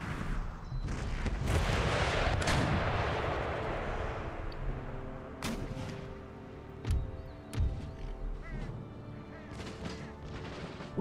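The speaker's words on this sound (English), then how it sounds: "The gunner's going to fire another volley, which is perfect." Artillery volley from gunners in Empire Total War: a loud rumbling barrage of cannon fire up front, then scattered sharp booms and cracks spaced apart, with faint talk underneath.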